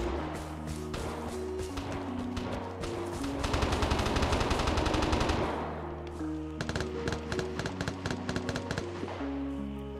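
Rapid bursts of gunfire from a group of players in the video game Vigor, dense overlapping volleys peaking midway, with repeated single shots and clatter continuing before and after.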